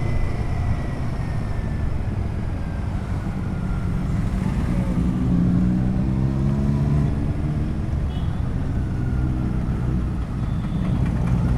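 Royal Enfield Himalayan 450 motorcycle engine and exhaust note, a steady low rumble with rising and falling harmonic tones, continuous and fairly close throughout, with no voices.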